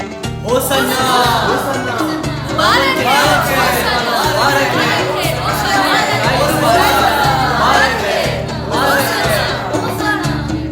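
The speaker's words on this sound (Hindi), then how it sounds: "फसह के त्योहार पर यरूशलेम में आई बड़ी भीड़ को जब पता चला कि यीशु आ रहे हैं तो उनकी खुशामदीद कुछ इस तरह की" Large crowd in Jerusalem at the Passover festival welcoming Jesus, a loud, dense mass of voices cheering and calling out together in continuous surging waves.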